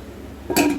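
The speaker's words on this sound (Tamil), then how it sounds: "இது அப்படியே இருக்கட்டுங்க, மூடி வச்சு மூடிடலாம்." A lid is set onto a kadai on the stove with a single short metallic clink near the end, loud and close after a quiet lead-in.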